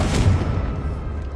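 Blasting-spell explosion in Hogwarts Legacy, a single heavy boom with a low rumbling blast that lingers and slowly decays, loud and close, with no voices.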